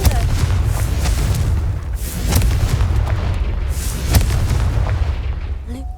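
Deep, rumbling blasts from the Confringo spell in a Harry Potter video game, several heavy booms rolling one into the next with sharp cracks on top, loud and continuous.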